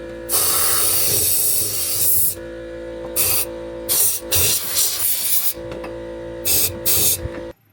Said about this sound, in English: I'm going to blow some air in this real quick.